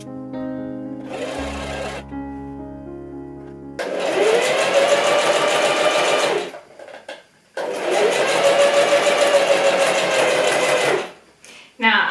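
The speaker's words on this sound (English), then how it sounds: "we're just going to do a straight stitch right across." A domestic sewing machine runs a straight stitch across pinned fabric close to the edge, in two long steady runs with a short pause between them, preceded by a brief tonal passage.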